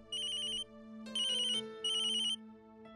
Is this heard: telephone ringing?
yes